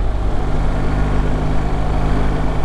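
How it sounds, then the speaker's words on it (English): A BMW R1300GS motorcycle's boxer engine produces a steady, loud, low-pitched exhaust drone while riding on Australian roads, with no voices over it. "It's still got that signature boxer engine GS sound, but probably lost a bit of the bassiness"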